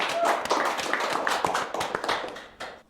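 A group claps at an event about the BPJamsostek JKP program, producing a brisk, dense patter of hand claps that thins out and ends after a few seconds.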